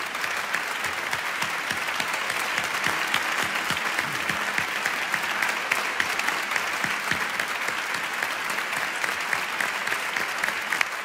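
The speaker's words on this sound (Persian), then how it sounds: "تشویق کنید به افتخار همه پاکبانای این سرزمین" Audience applause for street sweepers fills a hall with steady, dense clapping that stays loud and even throughout, with no talk over it.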